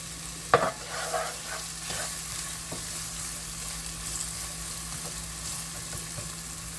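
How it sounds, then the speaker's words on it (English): Onion dropped into hot olive oil in a pan, a sharp initial hiss followed by a steady close sizzle with occasional light stirring taps. "You're going to let your onion cook a little bit, just get it a little translucent"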